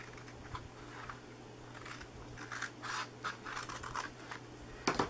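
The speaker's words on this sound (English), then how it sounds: "These scissors allow me to cut pretty straight because they're so big." Large scissors slicing through cardstock for a no-glue box, a series of close scratchy snips and rustles with a sharper clack at the end, no voices.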